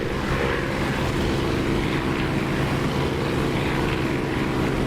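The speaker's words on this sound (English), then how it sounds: "I love the sound of this engine with a canopy open." A propeller aircraft engine drones steadily and loudly with the cockpit canopy open in the DCS flight simulator game, a continuous broad roar without talk.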